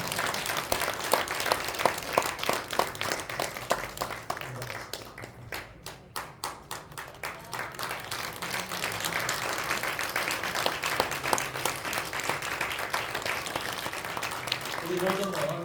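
A congregation at a church thanksgiving service for pastors' installation applauds with sustained, even clapping; it briefly thins in the middle, then swells again and continues to the end, with voices faintly underneath.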